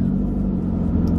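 A car engine idles with a low, steady rumble, close and constant through the short stretch with no voices.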